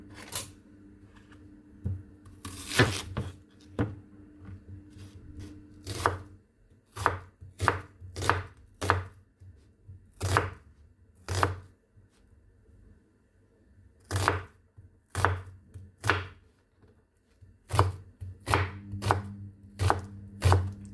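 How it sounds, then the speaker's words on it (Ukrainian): A knife chops an onion on a cutting board in a home kitchen, with sharp, distinct thuds spaced irregularly at roughly one-second intervals, close and clear against a quiet background. "Спочатку наріжемо цибулю."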